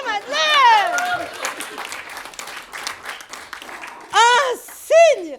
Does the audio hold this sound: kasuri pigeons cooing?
no